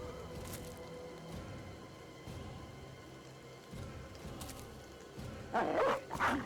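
A dog barks in a video game, a few soft scattered barks over a low ambient background, ending with a louder cluster of yips near the end.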